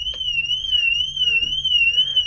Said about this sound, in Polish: Zaraz zapewne alarm się włączy.